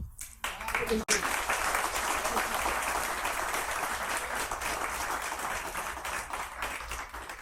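Guests at a wedding applaud together in a sustained, dense round of clapping that fills the room at an even level for several seconds before tapering slightly at the end.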